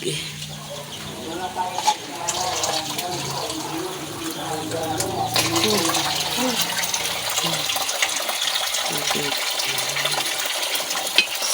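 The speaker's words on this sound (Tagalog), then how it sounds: "lalagyan natin ng tubig" Water is poured into a pan of a cabbage vegetable dish seasoned with pepper, giving a steady splashing, filling rush at moderate level while a voice speaks over it.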